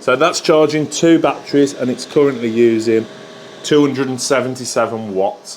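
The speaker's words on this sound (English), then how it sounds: "These are old chargers and the fans are" Steady whirring hum from the worn cooling fans of old battery chargers runs underneath someone talking throughout, a constant mechanical drone with a faint tonal whine.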